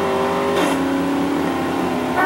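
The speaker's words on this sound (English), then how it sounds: "This is a sports car I'm driving." A sports car in the video game GTA San Andreas drives with a steady, loud, buzzing engine note that shifts pitch as it revs, heard alone without talking.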